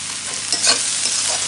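Onions frying in a pan with a little salt are stirred, a loud steady sizzle with one brief scraping stroke in the middle and no voices.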